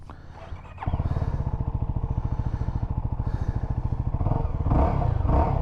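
A 2022 CFMoto 300NK motorcycle starts out quiet, then its engine drones steadily and loudly as it is ridden, with a rapid even pulse and a slight rise in revs near the end, no voices heard.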